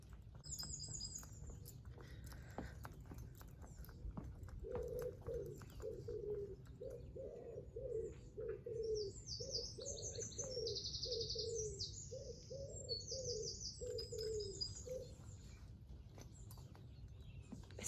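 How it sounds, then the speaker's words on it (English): Birds sing and chirp outdoors, with high twittering phrases and a steady, repeated low cooing from a dove, all fairly faint. "the birds are singing"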